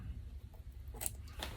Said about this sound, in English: If your scissors are sharp enough, you can just push it along.